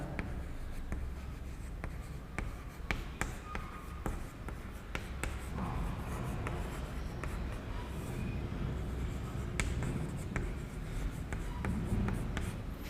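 Marker or chalk strokes scratch and tap steadily on a board as an instructor writes out a circuit calculation, close and continuous for several seconds over a faint room hum.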